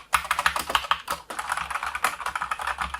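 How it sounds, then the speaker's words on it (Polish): Typing on a Huzaro Rocket 4.0 mechanical keyboard with Outemu Brown tactile switches and a US layout produces a steady, close run of rapid clacking keystrokes, with no talking. "I tak klikają przełączniki Brown"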